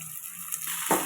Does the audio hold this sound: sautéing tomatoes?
yes